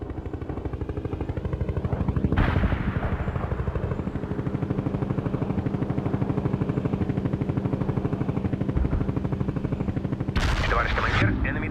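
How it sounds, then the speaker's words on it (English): Incoming mortar shells strike during a World in Conflict battle, with two sharp blasts standing out over a constant rattle of gunfire and combat noise. "I have incoming mortars."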